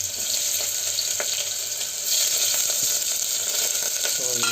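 Chopped onion frying in hot oil for a Hyderabadi mutton bones marag, a loud steady sizzle with a few soft stirring taps, close and without talk.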